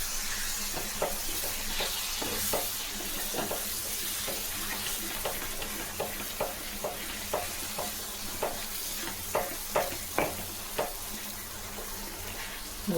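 Ground-paste fish curry with tamarind bubbles and sizzles in a pan after water is added, a steady hiss under repeated rhythmic scrapes of a spoon stirring, close and without talk.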